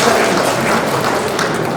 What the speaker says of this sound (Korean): 다시 한번 모두 한번 박수 좀 보내주시기 바랍니다